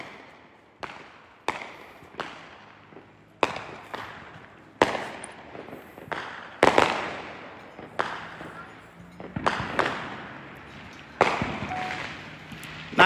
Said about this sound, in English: Fireworks in Staten Island for the new year.